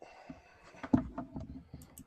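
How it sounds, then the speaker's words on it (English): A computer mouse gives a few quiet, sharp clicks in a small indoor room, spaced irregularly over a soft background. "Try clicking it a couple times or something"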